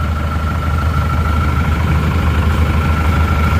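An Isuzu Panther diesel engine idles with its exhaust running, producing a loud, steady low rumble and vibration that holds unchanged throughout, with no talking over it.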